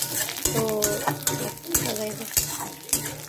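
Ginger sizzles in oil in a pan while a utensil scrapes and knocks against it in a loose, repeating rhythm of stirring.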